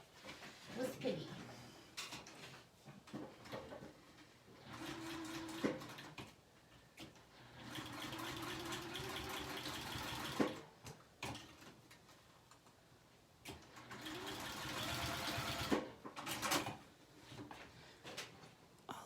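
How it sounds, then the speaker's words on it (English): A sewing machine stitches forward, reverses, then runs forward again, through several thick layers of fabric along a seam. The motor whirs in sustained bursts separated by pauses and soft clicks, and a voice talks between the runs. "All I've done is sewn forwards, reverse, forwards, and then switched it over and went forwards, reverse, forwards"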